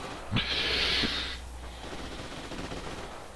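A machine gun fires one short, sustained burst lasting under a second during a Forgotten Hope 2 multiplayer match on the Sfakia map, then fades into a low wash of battlefield ambience.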